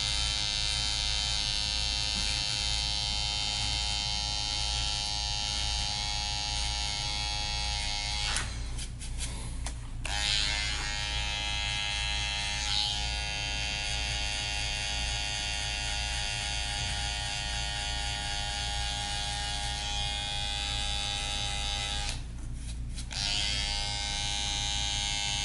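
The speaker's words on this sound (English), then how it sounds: "when we take our trimmers and we set this back line" Electric hair trimmers cut a back neckline, giving a close, continuous buzzing whir that holds steady throughout and drops out briefly twice.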